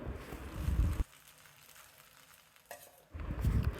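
Cooked rice is tipped into a pan and stirred for a sweet rice dish. Two loud bursts of scraping and shuffling come up close, one at the start and one at the end, with a quiet pause between and no voices.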